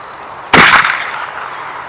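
An R. Richardson trade shotgun fires a 50-grain black powder load: one sharp, loud blast that cracks out suddenly, then rolls off into a fading rumble of echo.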